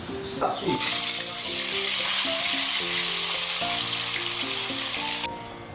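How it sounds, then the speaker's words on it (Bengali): Snakehead fish fry in hot oil in a kadai, giving a strong, continuous close sizzle that crackles for several seconds with a faint melodic tone underneath. "এখানে কড়াই তেল বসিয়ে দিয়েছি, চলো মাছগুলো এবার ভেজে নিই।"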